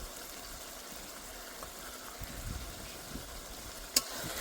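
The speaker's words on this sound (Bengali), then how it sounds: "নারকেল বাটাটা দিয়ে আবারও কষে নেব" Coconut paste and spices stir-fried in oil with ground shrimp paste for a pointed gourd and prawn curry, giving a faint, steady low sizzle with soft scrapes and one sharp click near the end.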